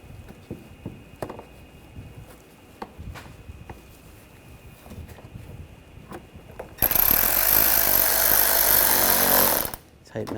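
A power tool drives a screw down into a car panel on a 2013-2022 Buick Encore 1.4L L4, a loud steady whir lasting about three seconds after quiet clicks and handling noises.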